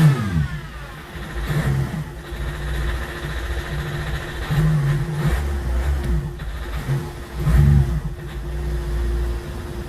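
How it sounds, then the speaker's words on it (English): A Ford Figo car engine starts and is revved in a few surges from idle, loud and close, settling back to a steady idle between the revs. "Let me start the car along with it."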